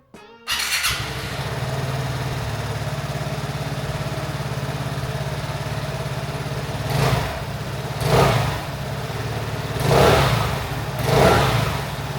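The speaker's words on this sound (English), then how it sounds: "I'm going to give you guys a sound check on the stock exhaust of the Vespa" A Vespa Sprint 150 scooter on its stock exhaust starts up and idles steadily close by, then revs up four times in rising and falling surges.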